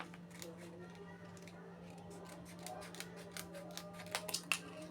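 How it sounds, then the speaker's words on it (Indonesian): Scissors snip the bottom off plastic drink cup packaging, cut along the purple colour, while crafting decorative flowers; several quick, crisp clicks come close up over a low steady hum, growing sharper near the end. "Kemudian ini kita gunting bagian bawahnya ya, sesuai warna ungunya aja."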